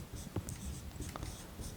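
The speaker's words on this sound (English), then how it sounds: "I'm going to write over here" A physics calculation for converting conductance to resistance is written out by hand, a short run of soft scratchy strokes heard close up, with no talking.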